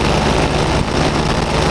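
A paramotor engine idles steadily in flight, a loud, constant droning roar mixed with rushing wind noise and no pauses, while the pilot hovers in a thermal.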